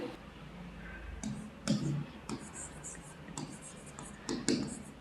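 Chalk or marker strokes on a classroom board, a series of short scratchy bursts that come in irregular clusters, close and fairly quiet over a soft room hum.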